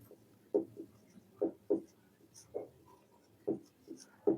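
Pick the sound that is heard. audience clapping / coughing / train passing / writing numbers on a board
writing numbers on a board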